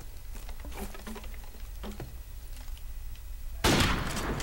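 Gunfire in a shooter video game: quiet, scattered sharp shot cracks come in quick bursts, then a louder burst of heavier fire near the end.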